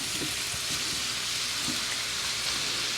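Shrimp and vegetables sear steadily in a hot pan, a constant broadband sizzle with a few soft clinks and stirring bumps, close and even throughout with no talking.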